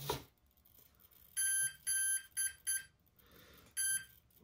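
A Hobbywing 200 amp V4.1 electronic speed controller for an RC helicopter gives a run of sharp electronic beeps during calibration, five tones in an uneven pattern with short gaps, clear and close in a quiet room.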